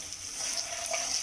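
Vegetables sautéing in a pan for a samosa chapati filling, a soft continuous sizzle with faint stirring, moderately close.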